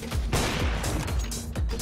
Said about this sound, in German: Okay, nice Schuss, Nils.